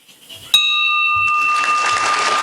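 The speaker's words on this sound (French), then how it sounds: "Ce son de cloche marque le début des travaux" A bell is struck once at a Lions Club International event, ringing with a clear sustained tone that lingers while a second strike and background noise swell beneath it.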